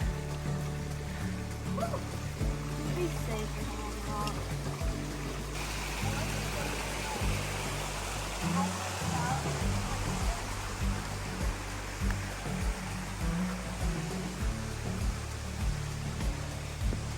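Low stream water rushes steadily over rocks at a hiking trail crossing in Virgin Falls State Natural Area, a constant broadband wash heard up close while hikers talk over it.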